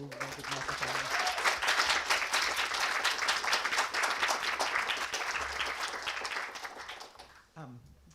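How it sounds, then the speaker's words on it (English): Conference audience gives a big round of applause at a talk on responsible AI, dense steady clapping that fades out near the end as a speaker's voice returns. "Can you first join me in giving a big round of applause"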